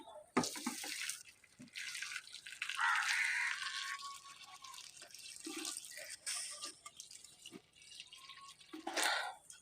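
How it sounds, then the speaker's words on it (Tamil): Hot melted butter pours in a steady, splashing stream for several seconds, with a brief pause and a few short dribbles near the end. No one speaks. "வெண்ணெயை வந்து நல்லா கொதிக்க வச்சு நம்ம இப்போ வந்து இதில் ஊற்ற போகிறோம்"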